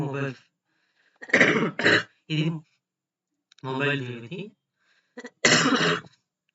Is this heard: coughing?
yes